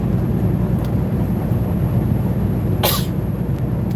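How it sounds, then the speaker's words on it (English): A single short, sharp cough from a person after tasting something smoky, heard over a loud steady background rumble, with no talking. "Why do I keep coughing?"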